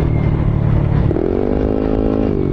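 A Yamaha Aerox scooter with a 232 cc build, fitted with 10-11 flyballs, revs hard on a test run; the engine note climbs and holds steady near and loud, with no talk.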